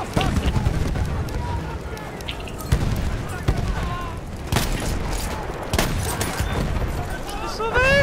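A grenade blast and bursts of rapid gunfire from a video game battle crackle densely throughout, with several sharp loud impacts, and voices speak occasionally beneath the noise.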